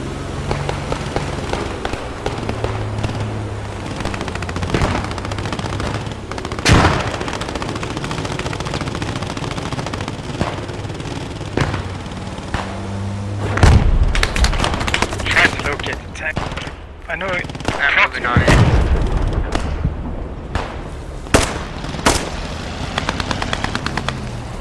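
Gunfire in the game Post Scriptum: loud bursts of machine-gun and rifle fire, near and distant shots, with heavy cracks and booms mid-way, a player voice speaking at times.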